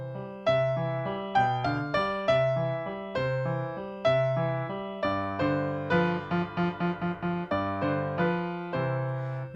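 A piano plays a short passage in a class lesson, with steady chords and repeated notes, including a dominant seventh chord. It is close and clear, with quicker repeated figures in the middle and no talking over it.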